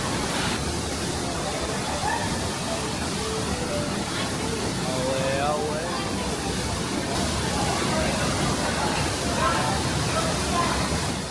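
Steady broadband rush of a waterfall in Tetebatu, Lombok, Indonesia, heard close and loud with constant spray and hiss, with faint voices and a few chirps over the roar.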